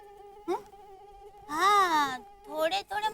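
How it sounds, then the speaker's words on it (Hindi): Mosquitoes buzz indoors at night, as a thin, steady, high whine running throughout. Louder wavering swells rise over it and are broken by brief voices. "अरे थोड़े थोड़े नहीं, बहुत मच्छर है।"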